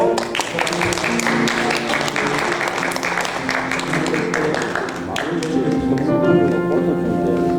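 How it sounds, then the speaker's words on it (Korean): A congregation at a Sunday service at Cherry Hill Presbyterian Church claps in sustained, dense applause for several seconds, with a steady musical tone beneath that tapers off toward the end. "우리 박수로"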